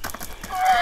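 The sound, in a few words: horse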